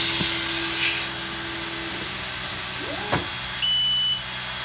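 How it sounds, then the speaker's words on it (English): A single clear electronic beep near the end, loud and steady for about half a second, from a Creality Falcon 2 22W laser engraver, over a low mechanical hum with a few faint clicks. "It beeped."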